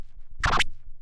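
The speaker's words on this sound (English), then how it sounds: "it's 2 baby scratches in a row" Two quick faderless baby scratches in a row on a vinyl turntable, a short crisp back-and-forth zip, loud and close with nothing else around it.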